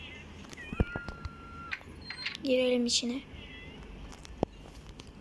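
A cat in the video game Keys season 3 lets out short meows. The first is brief and thin, and the second is a louder, rising call. A player talks quietly between them over game sounds and clicks.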